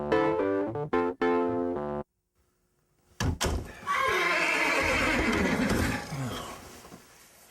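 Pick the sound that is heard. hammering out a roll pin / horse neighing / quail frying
horse neighing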